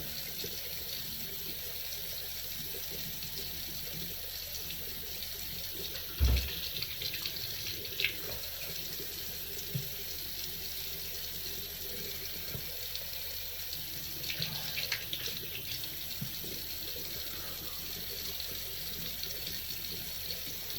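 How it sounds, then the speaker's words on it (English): Tap water runs steadily into a sink while a razor is rinsed during a shave, a continuous close-up flow with one brief knock partway through and no talking. "You want to keep rinsing it off, right?"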